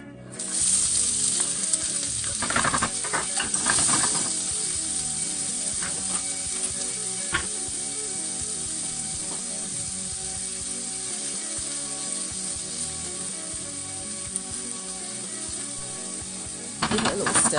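Finely chopped fresh vegetables, butter beans and carrots, dropped into a hot pan and frying with a loud, continuous sizzle, with a few clatters and stirring scrapes at the start and end.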